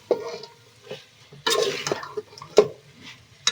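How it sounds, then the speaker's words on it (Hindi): A spoon stirs fried bitter gourds into a pot of meat curry for karelay gosht, with scattered scraping clinks and wet shuffling in uneven bursts, close and moderately loud. "ये अब हमारे पास करेले हैं जो हमने फ्राई किए थे, अब हम इसके अंदर डालेंगे"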